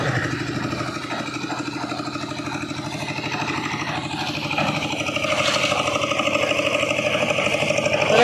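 A generator runs at a temple site where a huge lingam is under construction: a steady, close droning engine hum with a mechanical rumble that grows slightly louder toward the end.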